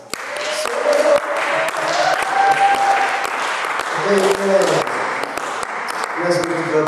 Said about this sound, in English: is that how you clap for Jesus?